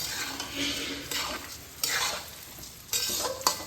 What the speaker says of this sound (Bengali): বাসমতি রাইসটাকে আমি লো ফ্লেমে ভেজে নিচ্ছি।